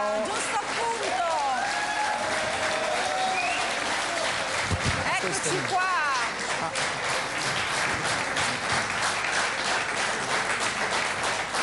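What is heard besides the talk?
audience applause for a singer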